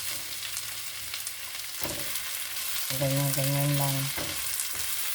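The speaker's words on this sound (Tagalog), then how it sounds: "Siyempre, isa-sautay muna natin ang ating garlic at onion para mag-caramelize ng konti" Garlic and onion sautéing in a hot pan for a winged bean and tofu dish, a steady close sizzle with occasional stirring scrapes, while a person speaks briefly over it.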